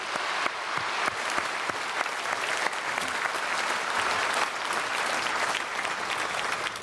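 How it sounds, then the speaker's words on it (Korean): A church congregation gives loud, sustained applause at an Easter service in Korea to welcome newly registered members. The dense clapping is steady and close throughout, with no voices above it. "우리 크게 박수로 환영하겠습니다"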